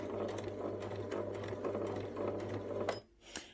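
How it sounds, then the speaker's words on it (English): A sewing machine stitches the neck seam of a fabric teddy bear, its fast steady needle rattle running close and continuous before stopping abruptly near the end. "pop it under the foot of your sewing machine"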